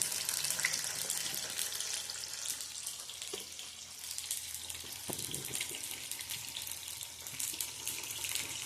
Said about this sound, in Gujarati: હવે આને આપણે તળાવા દેશું